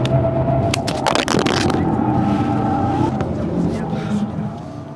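Hyundai car driven at full throttle, a steady engine drone with road and tire roar, close and loud inside the cabin, while people talk over it and the noise eases slightly toward the end.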